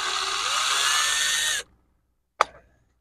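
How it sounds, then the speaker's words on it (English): A drill bores into an old fishing lure with a steady high whine for about one and a half seconds, stops abruptly, then a brief sharp tap or click follows after a short silence. "Once you get the hole started, kind of drill it out a little bit on each side."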